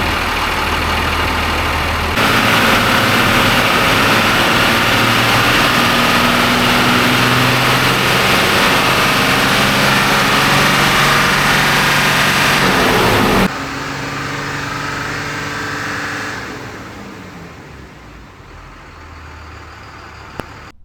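A first-generation Cummins diesel truck engine on a dyno runs at a loud, steady roar, then drops abruptly to a lower idle and winds down. No one speaks.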